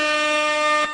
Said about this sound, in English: I bet I caught you all off with that horn.